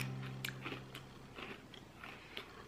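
A spicy Turkish cracker covered in little bits of spice is bitten and chewed close by, giving a series of faint, crisp crunches spread over a couple of seconds in a quiet room.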